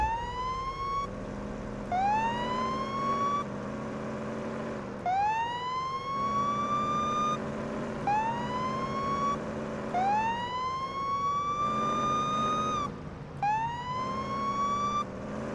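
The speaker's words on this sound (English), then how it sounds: "didn't mean to turn my siren on" A police siren wails in repeated rising sweeps, loud and close, over a steady low engine rumble, in the video game Police Simulator: Patrol Officers.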